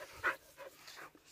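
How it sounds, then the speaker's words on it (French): A dog panting outdoors on a walk, a few short breathy bursts with one louder puff near the start, fairly close and otherwise quiet. "Ce chien me suit partout."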